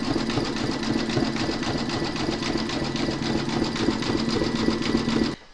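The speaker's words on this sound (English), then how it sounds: "You're now going to stitch colour number 8, and that's going to zigzag around the raw edge." Embroidery machine zigzag stitching around a raw fabric edge for an in-the-hoop pouch, a fast, even mechanical chatter of needle strokes running steadily, then stopping abruptly at the end.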